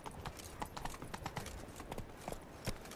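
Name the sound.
horse Roach's hooves in The Witcher 3 video game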